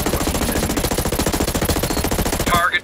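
Dense, rapid automatic gunfire pours in during a Ghost Recon Breakpoint PvP match on PS5, loud and continuous bursts hitting the player for nearly three seconds before cutting off abruptly.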